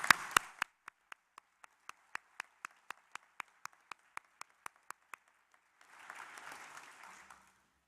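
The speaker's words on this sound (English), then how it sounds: "please join me in a round of applause to recognize our graduates" Brief applause for graduates and their guests at a Waterloo Class of 2022 convocation ceremony: a few hands clapping in a slow, spaced rhythm, then a short burst of fuller applause near the end, moderately loud in a large hall.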